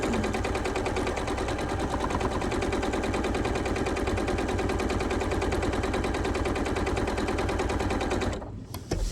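A sewing machine stitches quilt patches with a fast, steady mechanical rattle that carries on without a break and stops abruptly near the end.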